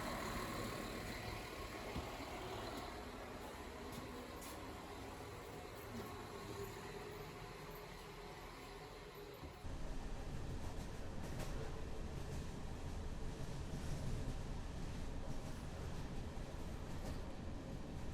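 Train rolling from Subotica toward the Hungarian border, a steady rumbling ride with a continuous wheel-and-carriage roar that grows louder about halfway through, no voices.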